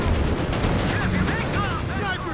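Sniper gunfire in the video game Company of Heroes 3 arrives as repeated sharp shots over a busy battle din, with soldiers' voices shouting over it.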